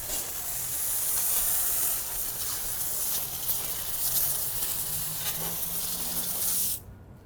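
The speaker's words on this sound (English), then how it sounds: "I've just finished rinsing down the wheel using our fire hose nozzle" Steady, hissing spray of water from a fire hose nozzle rinsing the wheel of a 2016 BMW M4 with a vinyl wrap, loud and continuous, cutting off abruptly near the end.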